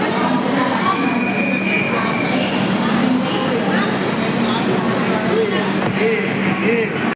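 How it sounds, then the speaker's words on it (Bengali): A train pulls out of a station with a steady loud rumble and rolling clatter, continuous and close, with faint squeals over the drone. "ট্রেন ছেড়ে দিয়েছে"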